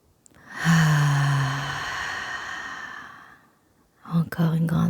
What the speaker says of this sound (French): Encore une grande inspiration.